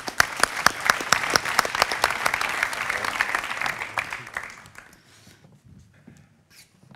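A crowd of listeners claps warmly, bright crisp hand claps that fill the room for several seconds and then taper off into near silence with a few stray sounds.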